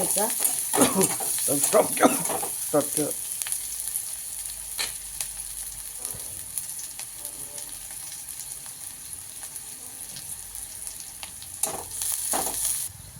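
Onions fry in a pan with a steady crackling sizzle, broken by bursts of stirring and scraping clatter near the start and end.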